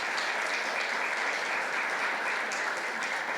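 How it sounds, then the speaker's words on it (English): An audience at a UX design and tech panel claps for the panelists, a thick, continuous wash of many hands applauding steadily and fairly close throughout, with no pause or speech. "let's clap"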